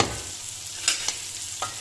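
Cooked rice stirred in a pan, a brief close sequence of a few soft scraping strokes over a low steady background hiss, with no voices.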